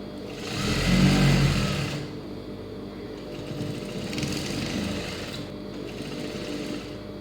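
Sewing machine running steadily while stitching the V piece of a cross-cut blouse, a loud continuous motor whir that swells early, dips, then carries on in shorter runs with no talking.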